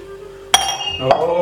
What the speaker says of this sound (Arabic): كسرتي كل المواعين